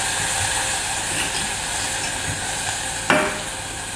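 Onions sweating in a saucepan, a steady close sizzle and hiss of frying with one brief louder crackle near the end, no talk.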